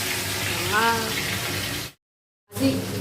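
Fish frying in hot oil in a home kitchen, a steady hiss with scattered pops and spluttering that cuts out briefly before resuming, with a voice faintly audible early on.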